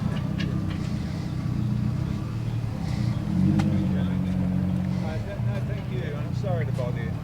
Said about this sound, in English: We got SVO Fox body Mustang coming out.